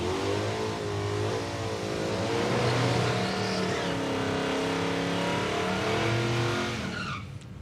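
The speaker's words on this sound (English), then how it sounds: "So the Plymouth Barracuda, that's Jason Rockstra, ran for another one." Plymouth Barracuda drag car at Palmyra Raceway, Australia, accelerating hard down the strip with a loud, rising engine roar and some tyre noise, sustained for several seconds before fading.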